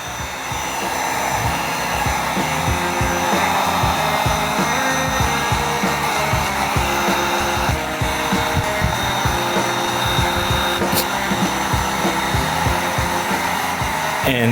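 A heat gun on its low setting blows hot air steadily onto a HasLab proton pack hose. The blower makes a constant, loud whirring rush throughout, with faint rubbing and handling noises.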